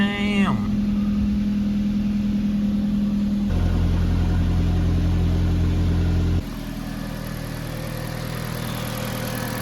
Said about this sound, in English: The motor sounds pretty healthy.